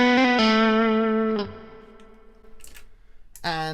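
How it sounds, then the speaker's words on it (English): Electric guitar with a high-gain tone ringing through a lush plate reverb: sustained harmonic-rich chords decaying into a long wash, a few muted picks and scratches, then a fresh strummed chord near the end. "Also had a lovely plate reverb."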